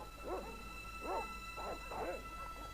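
In the Broken Sword: Shadow of the Templars PC game, dogs bark and whimper in a few short, wavering bursts at moderate distance, over a steady low hum.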